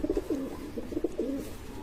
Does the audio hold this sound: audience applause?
no